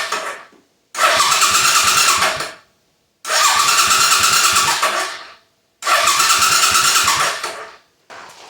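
Suzuki Intruder motorcycle engine cranking over on the starter without catching, three long rhythmic churning bursts separated by silent pauses, close and loud, with a brief fourth start at the end.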